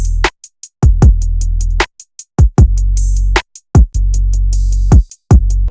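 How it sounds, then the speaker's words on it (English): A simple drum beat with punchy kick hits layered over deep sustained bass, along with quick ticking hi-hat-like clicks in a steady, bouncing pattern, loud and without voices. "Then I just added some simple drums like this to bounce off the beat."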